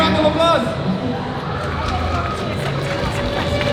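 A convention Q&A audience at Comic Con Brussels breaks into a big round of applause, a dense, loud wash of clapping that fills the room and stays steady throughout.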